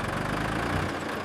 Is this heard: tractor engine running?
yes